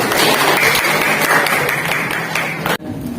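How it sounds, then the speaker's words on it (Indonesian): A classroom of students claps for a classmate, a steady burst of close, bright applause that stops abruptly near the end, followed by a quiet room. "Kasih tepuk tangan untuk Arif."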